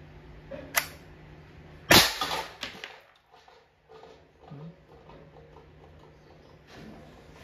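An Umarex T4E TR68 airgun fires a single sharp, loud crack at the base of a sardine can, followed by a quick metallic knock and some faint handling noise, with a softer click heard just before the shot.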